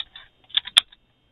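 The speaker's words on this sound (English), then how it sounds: "Oh man, I don't like typing all of this." A few scattered keystrokes on a computer keyboard while coding HTML in a Laravel PHP project, soft irregular clicks with one sharper tap near the middle, close and alone, no talk.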